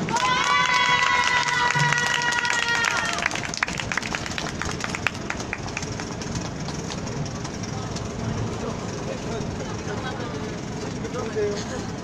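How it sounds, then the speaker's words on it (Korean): A crowd at an outdoor rally applauds before a performance, steady dense clapping throughout, with an amplified voice speaking over the start. "큰 박수 부탁드립니다"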